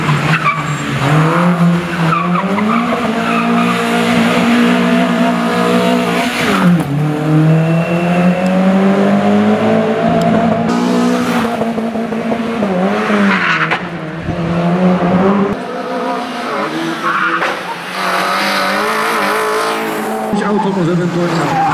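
Citroen C2 rally car at a rally stage in Ustroń, engine revving loudly and tires squealing as it races past close by, with a commentator talking over it.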